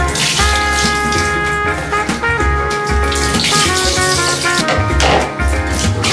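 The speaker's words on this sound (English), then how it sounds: "Still kind of weird to go flush your child's dialysis fluid down the drain" Dialysis fluid from a baby's home dialysis is poured down a drain, making a steady, loud rush of liquid over a low hum, continuous throughout.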